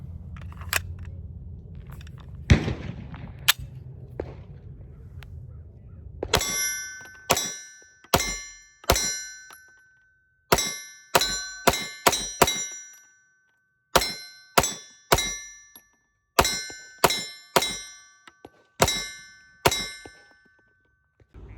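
A SAR 9 pistol fires about fifteen rounds in irregular, close, sharp shots, each with a ringing metallic decay, after a few quieter knocks and handling sounds.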